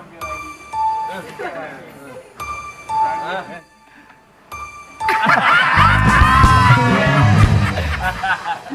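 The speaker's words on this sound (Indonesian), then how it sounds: "Dan sesekali suara bel pun berbunyi." A ding-dong bell chimes twice in quick succession, clear and close, with people talking between the rings. It then gives way to loud, continuous shouting and laughter.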